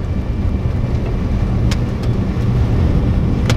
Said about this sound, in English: Bro, that's the bus carrying the people.